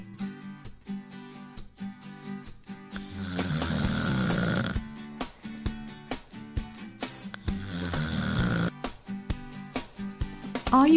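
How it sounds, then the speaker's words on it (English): Loud, rhythmic snoring from a sleeping person, with several long rasping inhaled snores separated by quieter breaths, close up and with no talk. "Do you snore when you sleep?"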